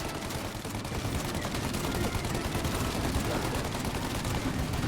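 Dense, unbroken machine gun fire in the video game Mafia Definitive Edition, a loud, continuous rattle that fills the whole stretch with no pauses.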